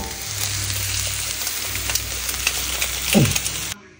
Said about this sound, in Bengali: এই যে সেদ্ধ করা ভাতটা দিয়ে দিয়েছি, এবার ভালো করে একটু নেড়ে নেব।